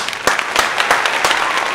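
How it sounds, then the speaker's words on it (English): Studio applause at a podcast guest introduction, a short burst of steady clapping with a few louder claps standing out, loud and close. "add some applause there"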